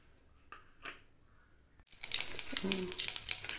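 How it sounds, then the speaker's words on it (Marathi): Mustard seeds in hot oil tempering boiled black chickpeas for a chaat: a quiet opening with a faint voice, then a sudden burst of dense, close, continuous crackling and popping. "मोहरी तडतडते"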